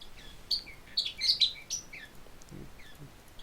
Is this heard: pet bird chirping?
yes